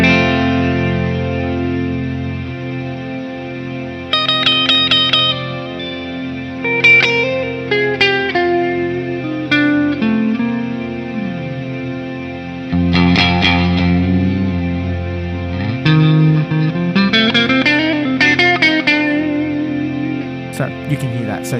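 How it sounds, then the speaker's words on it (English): Electric guitar through the S-Gear 3 amp simulator drenched in reverb, chords and single notes ringing out with long washy tails, steady and fairly loud throughout. "So that's the reverb."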